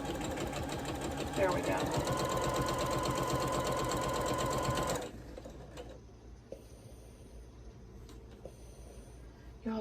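A sewing machine runs steadily for about five seconds while stitching fabric on a floral quilt block, then stops, leaving quiet room noise and a few small clicks; someone says a few words near the end.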